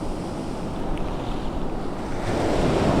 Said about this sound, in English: Even though the waves are moving that way. That means the tide's on the way out.